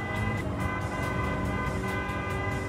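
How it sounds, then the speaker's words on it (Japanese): A car horn blares continuously in the Gran Turismo 7 racing game, a steady loud tone held with repeated pulsing under engine noise. "ちょ、うっせえ、クラクション。"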